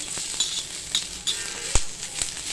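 Grated coconut roasting with onions in a hot pan: a continuous soft sizzle broken by light periodic scrapes and clinks of a stirring spoon, close and fairly clear.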